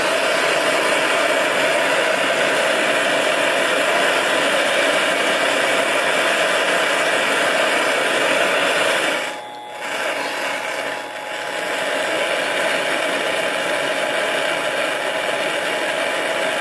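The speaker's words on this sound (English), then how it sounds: "I'm just using the lathe because I have it, and it's just a way for me to apply the heat evenly to it." A lathe spins steadily while a metal velocity stack in it is being heated, giving a loud, continuous motor whir with one brief dip partway through.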